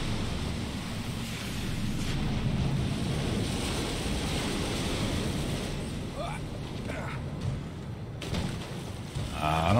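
A character splashes down into water in the survival-horror video game The Evil Within, a broad rushing wash of water sound that swells and churns throughout, with faint shifting noise near the end.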